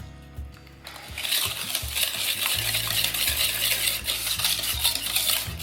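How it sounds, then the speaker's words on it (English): Organic pure cane sugar and eggs beaten together in a bowl with a whisk, a loud, fast, continuous scraping and clinking that keeps up steadily from start to finish, close by with no voice over it. "I'm just going to whisk this"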